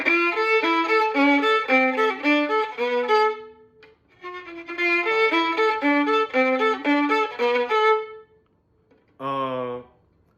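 A violin plays a run of bowed notes, pauses briefly, repeats the phrase, then sounds one final held note alone.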